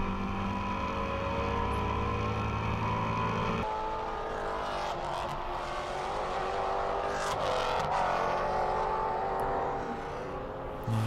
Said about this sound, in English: He's very upset as Monti and then Ragazzi go past him